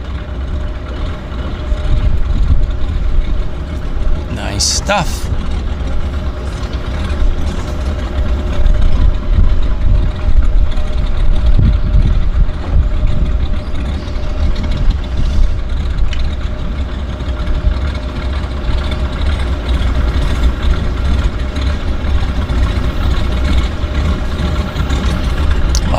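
A Sea Air de Havilland Beaver floatplane's radial engine idles at a harbour, a steady loud low rumble with rough, sputtering irregularities that runs throughout, and a brief spoken comment partway through.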